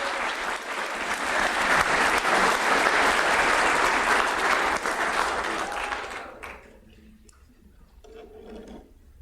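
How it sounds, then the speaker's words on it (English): A lecture audience applauds the evening's speaker at a public lecture on robots: sustained, full-room clapping for about six seconds that then fades out, followed by quieter room sounds. "could we have a very warm round of applause for our speaker tonight, David Grossman."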